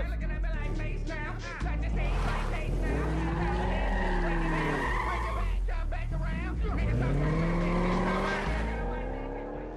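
Corvette sports car roaring off, its engine note rising and falling through loud revving passes with a brief tire-squeal quality, close and sustained throughout.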